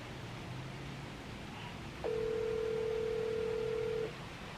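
A telephone ringback tone sounds while a call to a friend goes unanswered. It is a single steady electronic tone lasting about two seconds in the middle, clear and fairly loud, set against faint room hiss with no talking.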